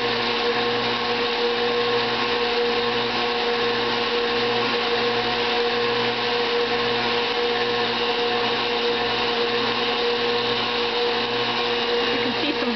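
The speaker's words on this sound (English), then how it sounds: "the engine on the blender isn't straining very hard at all" A blender churning cream into butter runs steadily at high speed, a continuous loud whirring hum with a faint pulsing churn underneath, never pausing.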